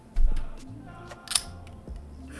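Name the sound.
TWSBI fountain pen cap being capped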